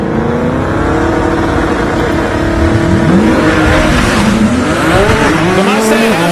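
A Sissio Performance-built 2017 GTR launches down the drag strip at Bradenton Motorsports, its engine roaring loud and near, climbing and dropping in pitch through fast gear changes.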